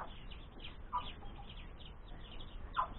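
Young chicks hatched from an incubator give faint, sparse chirps: a couple of brief high peeps stand out over a quiet, low background.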